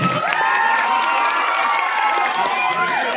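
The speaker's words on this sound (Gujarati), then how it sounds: "જોરદાર તાળી થઈ જાય ગેટ માટે." Large audience at a Khajur Bhai public event in Barvala clapping and cheering together, a loud sustained roar of applause with shouts and whistles that holds steady throughout.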